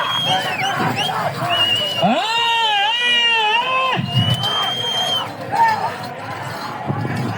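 Crowd at a Badripalle bullock-pair competition roars and cheers loudly and steadily, a rising shout swelling in the middle of the noise, with people talking throughout.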